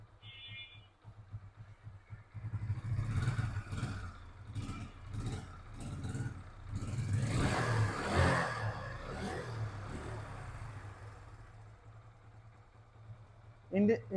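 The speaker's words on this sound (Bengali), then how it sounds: "ইঞ্জিনের সাউন্ড কিন্তু একদম স্মুথ, যেভাবে থাকা দরকার ঠিক এইভাবেই আছে।" A Hero Ignitor 125cc motorcycle engine runs steadily at close range, with a low, even hum and some clatter throughout, under a person talking over most of it.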